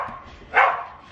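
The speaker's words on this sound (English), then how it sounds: "why is he barking like that?" A single short dog bark rings out close by over quiet outdoor background, during a dirt bike meetup.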